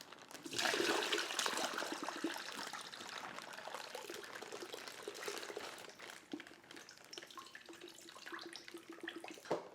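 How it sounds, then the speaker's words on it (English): Brine pours out of a container in a steady splashing, gurgling stream that starts abruptly and continues for several seconds, close and fairly quiet, before trickling to an uneven finish. "here, we'll just pour our brine out"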